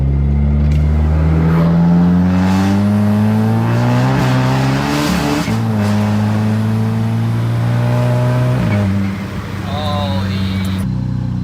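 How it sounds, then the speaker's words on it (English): A Volkswagen MK6 GLI engine with a Garrett GT2260S turbo revs and accelerates, its pitch rising and falling repeatedly, with a high whine from the turbo spooling up over the engine note. "let's listen to the turbo"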